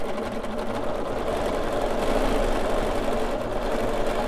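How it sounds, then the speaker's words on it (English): A sewing machine stitches vertical quilting lines along the edge of a collage quilt, a steady close motor hum with a rapid needle patter running continuously throughout. "So I'm just kind of doing some vertical stitching along that edge."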